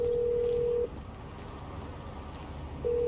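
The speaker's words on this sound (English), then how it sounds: "who changed my ringtone?" A phone rings in Grand Theft Auto V with a tonal electronic ringtone, two loud steady pulses, one at the start and one at the end, separated by a quiet gap.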